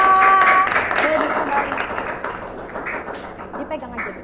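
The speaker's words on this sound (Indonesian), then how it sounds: "Beri tepuk tangan buat kelompok 2." Grade 2 pupils clap for group 2 in a classroom, a ragged burst of hand claps that slowly fades and thins, with children's voices and talk mixed in throughout.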